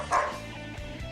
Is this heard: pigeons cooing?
no